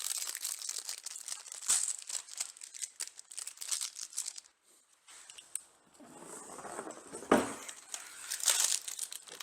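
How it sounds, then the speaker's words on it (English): Plastic wrapping pulled off a 2021 AVS Bugflector II hood shield installation kit, close crackling and crinkling in bursts with a brief pause, then more rustling and tearing. "Take the plastic off."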